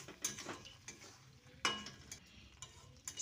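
Poppy seed paste being stirred into a dish in a pan, with scraping and soft clatter of a utensil against the pan over a faint sizzle and a sharp knock midway.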